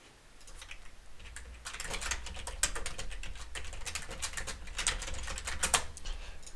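Rapid, steady typing on a computer keyboard, close and fairly quiet, the clicks growing a little denser and louder after the first couple of seconds, with no talking.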